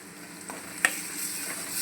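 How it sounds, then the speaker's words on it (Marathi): Ginger, coriander and green chili paste hits onions frying in oil, a steady soft sizzle broken by one sharp clink and splatter near the middle, with no talking. "आता आपण या अद्रक, कोथिंबीर, मिरचीचा हा ठेचा टाकूया."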